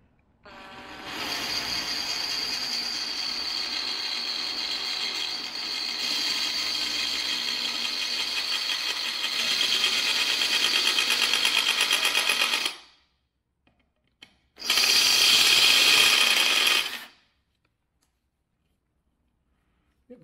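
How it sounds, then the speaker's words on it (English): A small drill with a 1/32 bit whines steadily while drilling out rivets on the end cap of a KTM 890 Adventure R exhaust, running for about twelve seconds, then stopping and giving a short final burst. "We're gonna start out with a 1/32 drill bit."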